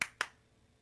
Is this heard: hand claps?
yes